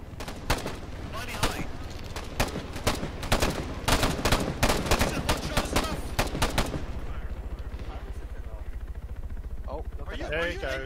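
Rifle gunfire in the military game ArmA 3 rattles in rapid, dense bursts for several seconds, then thins to scattered shots while voices talk over radio chatter.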